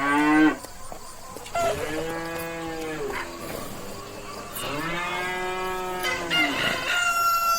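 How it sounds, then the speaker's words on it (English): A cow moos loudly several times in long, drawn-out calls with short pauses between them, clear and close with no talk. "Cow."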